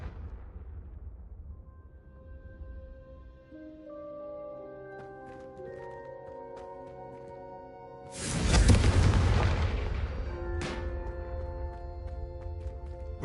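Confringo fire spell cast in Hogwarts Legacy: one loud, close, rushing blast with a sizzling tail and a shorter second burst soon after, rising out of a quiet stretch with soft melodic music under it.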